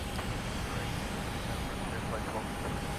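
A Delta airliner takes off from runway 23 right at Logan Airport, a steady, loud broadband engine roar that holds evenly throughout, with faint voices mixed in.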